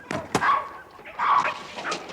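A dog gives short yips and whimpering barks, fairly loud and close, in two bursts with gaps between them, in a dramatized Sherlock Holmes scene.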